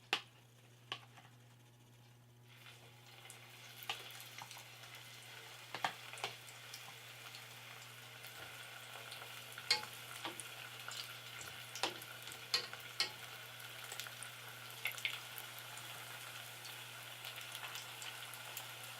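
A second batch of plantains fries in hot oil with a continuous soft sizzle and scattered popping crackles over a low steady hum.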